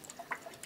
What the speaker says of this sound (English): lean this a bit just to get the last bits of wort out of the grain